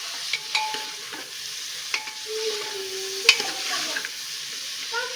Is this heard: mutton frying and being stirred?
yes